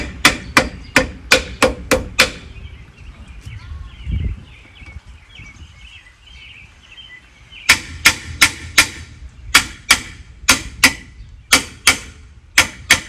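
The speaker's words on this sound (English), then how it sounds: "This is the absolute wrong hammer for this, but it's all I got right now" Sharp, ringing hammer blows on rusty metal of a 1977 Buick Electra, in two quick, evenly paced runs separated by a few seconds of quieter clatter and shuffling.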